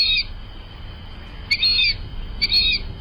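A fulvous whistling duck gives three short, high, clear whistled calls, spaced apart over a low background rumble.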